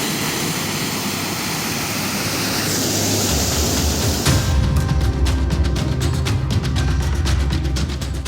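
Floodwater rushing over a fully submerged service road beside an elevated national highway under construction, a steady broadband roar like a waterfall that swells louder partway through, with no voices.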